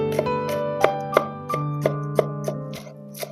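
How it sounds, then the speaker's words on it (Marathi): Knife chopping a green chili on a board while making a potato evening snack, a string of about ten distinct sharp taps at uneven intervals over steady background music. "आता 1 हिरवी मिरची देखील कापून घ्यायची आहे"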